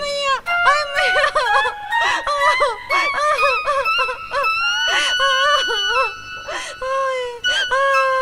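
A woman wails and screams for help in a Hindi comedy sketch, giving loud, close, pitched cries one after another with a few short breaks.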